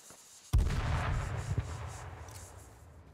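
A grenade blast in the battle royale game H1Z1 lands as one sudden heavy boom, followed by a rumbling decay that lingers for a few seconds without any voices.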